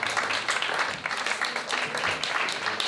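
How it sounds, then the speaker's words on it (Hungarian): Sustained audience applause at an award ceremony, many hands clapping densely and steadily at a strong level with no break. "Szűnni nem akaró tapsot kérek"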